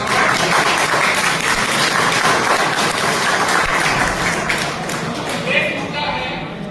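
Dense, loud clapping from a large crowd at a union general meeting in Bhilai, India, sustained throughout and tapering slightly near the end.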